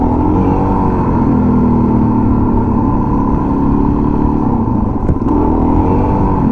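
A motorcycle accelerating hard in second gear during a wheelie attempt, its engine a loud, continuous close-up roar with steady pitch and a brief dip near the end.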